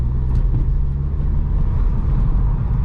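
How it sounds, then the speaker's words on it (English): Inside a Volkswagen Scirocco at night with the windows rolled down, a steady low road and engine rumble hums along at an even level. There are no voices and no sudden sounds. "I want you guys to listen how quiet this car is"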